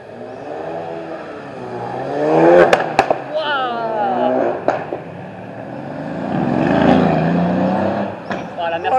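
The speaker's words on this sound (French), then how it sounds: "La Mercedes, elle est violente." A Mercedes supercar accelerates through the streets of Monaco with a rising, revving engine note and sharp gear-change pops. It passes close by while an excited voice talks over the roar.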